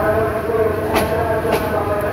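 A passenger train halted at the airport station on the Dhaka to Chittagong night route. A steady low rumble and hum fills the inside of the carriage, with a few faint hissing bursts and murmured voices underneath.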